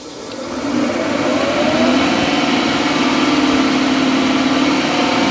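A wood lathe spins a chunk of beech at about 1900 RPM, producing a loud, steady motor drone with a constant hum that ramps up at the start and then holds evenly.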